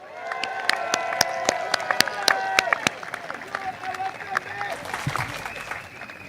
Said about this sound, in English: Can I have one round of applause for our NCMP, Hazel?